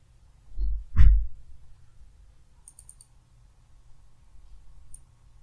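A computer mouse gives two close, dull clicks about half a second apart, then faint scattered ticks in an otherwise quiet room, with no speech.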